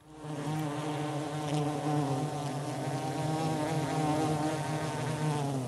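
A loud, steady, close-up buzzing of a bee, amplified and droning continuously without pause.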